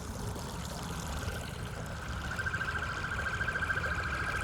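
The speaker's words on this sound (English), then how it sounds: "And there's the siren." A pulsing, wailing siren tone rises out of steady background noise and grows more insistent through the second half, with no one speaking.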